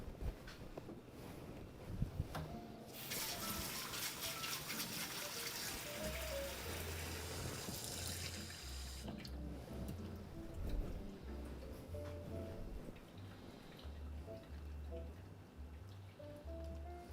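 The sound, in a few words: water running from a tap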